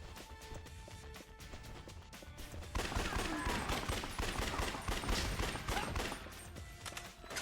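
Upgraded shotgun blasts from an ally in the game Yakuza Dead Souls, part of a dense, continuous barrage of gunfire that grows louder and busier midway, with no talk.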